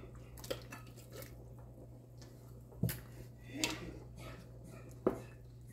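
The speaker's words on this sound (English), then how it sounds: "So now I'm gonna try to add in the green beans." Green beans are added to a pot of pork stew, giving a few scattered knocks and clinks of pot and utensil over a low, steady hum, close but quiet, with no talking.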